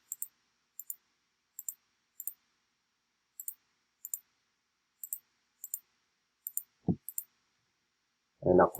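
Computer mouse clicking in pairs, sharp and close, about a dozen crisp clicks spaced through near-silence, with a brief voice at the end.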